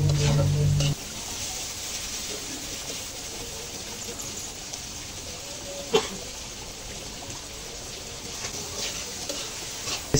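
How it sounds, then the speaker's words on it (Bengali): Dried fish (shutki) frying lightly in a pan, a steady soft sizzle running throughout after a brief louder start, with an occasional small clink or pop. "শুটকিটা ভেজে নিই।"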